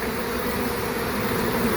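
Honey bees swarm in a dense, continuous buzz at an opened hive in summer, a close, steady drone with no talking over it.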